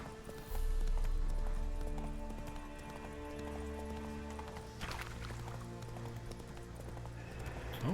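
Hooves clip-clop in a steady galloping rhythm from a horse in the video game The Witcher 3: Wild Hunt, close and fairly loud over layered game music and ambience, with a brief whinny-like call.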